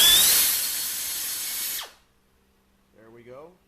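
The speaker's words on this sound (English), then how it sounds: "with the 41 thousandths of an inch drill bit, we're gonna enlarge this hole here" A power drill with a 0.041-inch bit whines steadily for nearly two seconds, enlarging a hole in a transmission valve body, then winds down and stops; after a pause, a short burst of speech follows.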